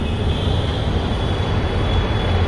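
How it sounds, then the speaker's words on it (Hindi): A metro train pulls into an elevated station in Jaipur, its loud continuous rumble and rail roar close by, with a steady high whine running over it. "मेट्रो भी आ गई, और मेट्रो भी आ गई ऊपर, देखो"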